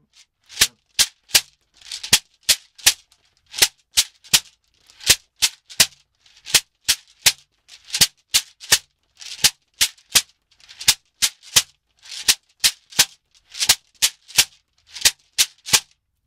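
A shekere calabash rattle played in a steady rhythm, the left hand stopping the gourd to give sharp chucking attacks; crisp, close, evenly repeated beaded strokes in clustered groups, with no talk over them.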